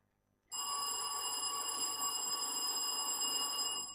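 A contestant's bell at a tertiary business quiz contest rings continuously and loudly for about three and a half seconds, a sustained metallic ring with no talk over it.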